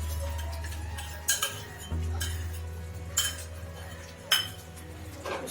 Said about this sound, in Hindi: उसको अच्छे से मिक्स कर देंगे और बीच बीच में चलाते रहेंगे